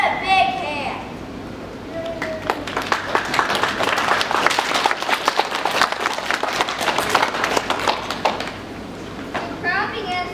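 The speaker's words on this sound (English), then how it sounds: "The crowd begins to applaud, and the emperor smiles proudly." Audience applause at a school class play, brisk clapping that swells in the middle and fades, with children's voices speaking just before and after it.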